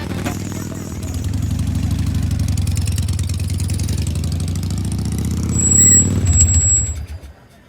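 A motorcycle engine idles with a steady mid-pitched rumble, rises briefly near the end, then cuts off, with no clear talk.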